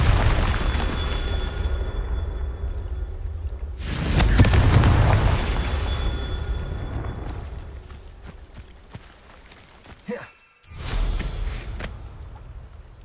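A fiery Confringo blast spell cast in Hogwarts Legacy bursts out loud and full, a heavy booming explosion that rumbles and fades over several seconds within ongoing battle noise, with a second sharp impact near the end.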